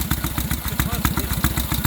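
A 1928 BMW R62 motorcycle engine idling after sitting unstarted for months, its loud close exhaust note thumping in a steady, slightly uneven rhythm.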